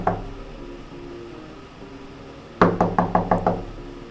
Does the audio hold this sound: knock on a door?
yes